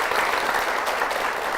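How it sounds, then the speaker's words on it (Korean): Congregation applause fills a church, a dense, steady wash of hand claps from a seated audience, close and even throughout with no voices over it. "박수 부탁드리겠습니다"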